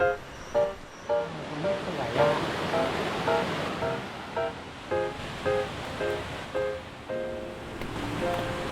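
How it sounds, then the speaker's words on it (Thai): Rushing water roars steadily at Khlong Ta Long waterfall in Chanthaburi, Thailand, with a repeated pulsing tonal chirp over it and faint voices in the background. "ถึงน้ำตกคลองตาลองจนได้"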